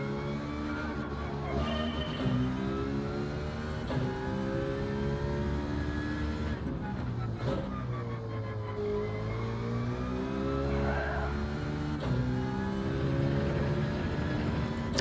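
A Mazda Atenza Gr.4 race car in Gran Turismo 7 at Fuji revs continuously, its engine note climbing and dropping through gear changes, loud and sustained with no talk.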